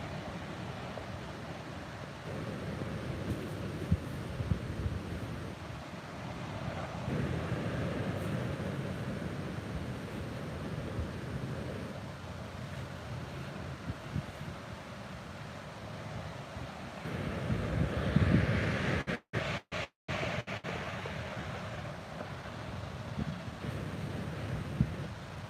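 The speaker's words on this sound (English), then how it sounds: "So I'm at Manor Beach in Pacifica" Ocean surf and wind at Manor Beach in Pacifica, surfers out in the water; a steady broadband wash of breaking waves with wind buffeting the microphone, swelling briefly louder near the end.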